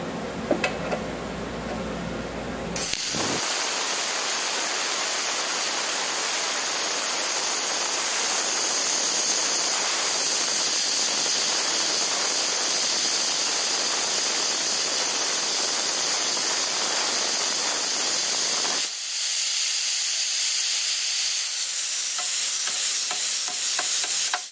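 An 80-amp Longevity ForceCut 80i plasma cutter slices through 3/4-inch cold rolled steel at 100 PSI, with a steady loud hiss and crackle that runs for about fifteen seconds, then drops away to quieter fan noise.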